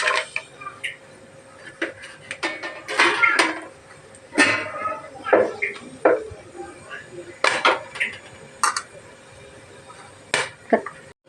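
Whole spices, including cloves, rattle and clink against a metal pot in scattered bursts, with a few sharper knocks and some talking in between.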